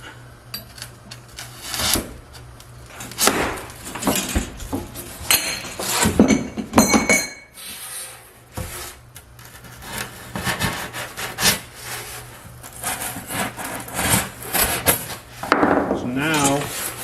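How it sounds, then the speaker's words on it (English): A screwdriver is forced through the end of a scrap 3/4-inch galvanized steel pipe in a workshop, making loud, repeated scraping, grinding and clinking strokes in an irregular rhythm, with some talking mixed in. "I have some scrap 3/4 galvanized pipe. So I'm just going to poke a hole with a screwdriver through"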